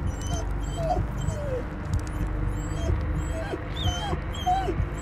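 Dog whimpering in the Blair Witch horror game, high thin whines rising and falling several times over a low droning ambient hum, fairly close and moderate in level.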